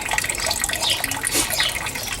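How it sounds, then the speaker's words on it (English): Excess water drains from a press, gushing and splashing continuously, a dense, loud rushing of liquid pouring out with no pauses. "You let the excess water released."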